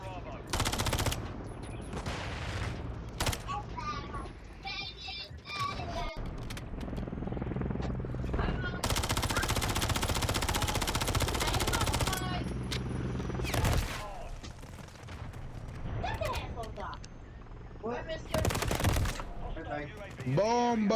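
Bursts of automatic gunfire and explosions in a first-person shooter video game, loud and repeated, mixed with in-game radio voice lines and a player talking over the action.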